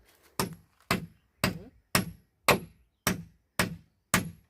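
Eight sharp, evenly spaced hammer blows on a nail ring out close by, each a solid metallic knock with a short decay, in a steady rhythm.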